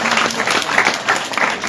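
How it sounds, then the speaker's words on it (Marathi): An audience at a motivational seminar breaks into loud, dense applause, a continuous rattle of many hands clapping close by for the whole moment. "एकदा जोरदार टाळ्या वाजवा त्यांचा."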